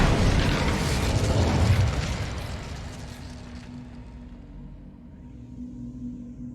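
A fiery burst booms from an Incendio fire spell cast in Hogwarts Legacy, a loud blast and rumbling roar over the first two seconds that fades into a lower crackling tail.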